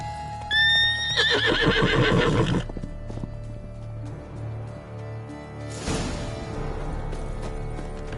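Horse in The Witcher III video game giving a loud, close whinny followed by snorting, then a second rougher neigh a few seconds later over a steady low ambient hum.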